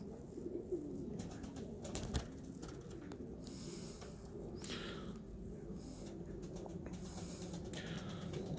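Hummy pigeons coo softly in a loft, low murmuring coos repeating under faint rustles, wing flaps and background noise.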